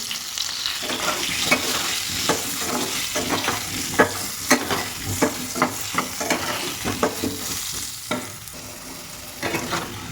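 Potatoes frying in leftover rohu fish oil, a constant close sizzle punctuated by repeated clicking spatula strokes against the pan as they are turned.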